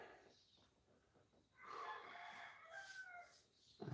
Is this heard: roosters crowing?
yes